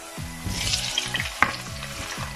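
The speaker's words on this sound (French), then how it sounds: "Dès que notre huile est soufflée, on met les oignons avec l'ail. On va retourner 2-3 minutes. Après, on met les pommes de terre." Onions, garlic and potatoes fry in hot oil in a close, continuous sizzle, with stirring scrapes and soft clinks of a utensil against the pan.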